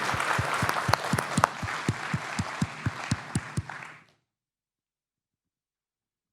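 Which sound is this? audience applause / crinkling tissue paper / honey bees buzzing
audience applause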